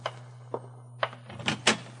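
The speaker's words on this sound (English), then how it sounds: "the jarring thump of the paper grazing my door told me a new dawn was with us" A radio drama sound effect of a newspaper thumping against a door, with a few soft knocks and then a heavier pair of thumps near the end, close over a steady low hum.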